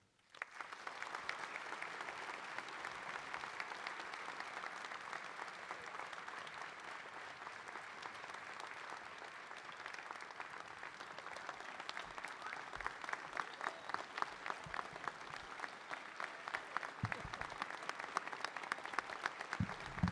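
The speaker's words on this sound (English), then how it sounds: "Please join me in a warm applause" An audience at a medical school white coat ceremony applauds Dr. Fernandez, a sustained wash of many hands clapping at a distance, rising slightly in intensity toward the end with no talk over it.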